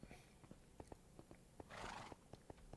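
A Minecraft horse lets out one short, breathy neigh amid quiet, regularly spaced hoof clicks, all faint with no voices present.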